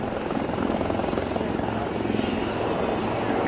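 An L-159A ALCA jet makes a slow, gear-down display pass at Yeovilton Air Day, a loud, steady broadband roar with no letup.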